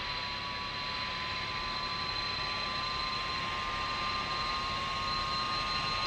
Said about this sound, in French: On démarre le moteur 1.